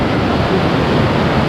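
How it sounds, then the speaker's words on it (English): A river in the mountains near Mestia, Georgia, rushes past a small riverside seating area as a steady, broad wash of water noise, loud and continuous without a break. "Look at this river, is that not just amazing?"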